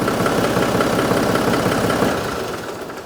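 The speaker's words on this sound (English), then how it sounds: "It's a good running tractor." A John Deere 5310 tractor engine runs at a steady idle nearby, a loud continuous diesel rumble that eases off slightly toward the end.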